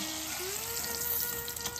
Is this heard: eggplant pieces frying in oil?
yes